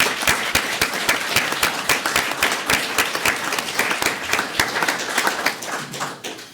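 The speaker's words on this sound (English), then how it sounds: "Thank you, Captain. Let's give him a round of applause." A meeting audience at a city manager's progress report applauds a captain with dense, steady clapping from many hands, sustained throughout and easing slightly at the end.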